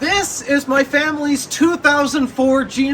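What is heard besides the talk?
No everyday noise stands out behind the speech.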